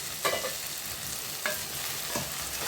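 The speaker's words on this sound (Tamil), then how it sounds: "இப்போ இது நல்லா பிரட்டி விட்டு நல்லா வதக்கிக்கிறோம்" Cowpea and vegetables for a tamarind curry, seasoned with chili powder and salt, sautéing in a pan, with a steady close sizzle and three distinct scrape-and-toss stirring strokes.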